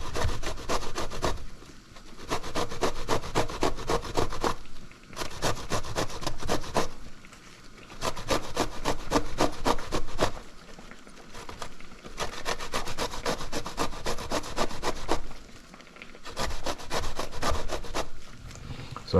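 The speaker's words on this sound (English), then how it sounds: "I'll just grate my eggplants for my eggplant fritters." Eggplants are grated by hand for fritters, with rapid rasping scrapes in bursts of a few seconds separated by brief pauses, close and steady, with no talking.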